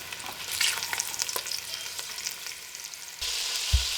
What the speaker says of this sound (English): that sizzle is just exactly what we want to hear